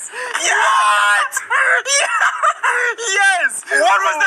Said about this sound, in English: What was that scream?